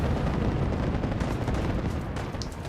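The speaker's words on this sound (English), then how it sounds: "I wonder what the unholy racket of Gauss rifles was." Rapid, loud gunfire from Gauss rifles in Fallout 4 as a farm settlement defends itself, a dense sustained barrage with heavy booming blasts that keeps up for the whole stretch.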